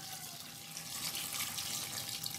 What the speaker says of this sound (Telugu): ఇప్పుడు మనము ఈ వేరుశనగకాయలకి వాటర్ వేసుకుందామండి.